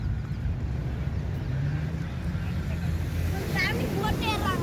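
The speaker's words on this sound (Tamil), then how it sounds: "நல்லா அலை சத்தம் கேட்குது பாருங்க." Sea waves at Khorfakkan beach on a rainy day, heard as a steady broadband wash of surf with wind buffeting the microphone, while people talk near the shore.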